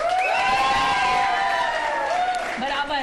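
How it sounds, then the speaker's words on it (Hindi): A studio audience at a Pakistani morning show claps and cheers loudly, with whoops and children's shouts rising over the clapping while a voice talks above the crowd. "आप लोग फिर से एक दफा ताली बजाएं।"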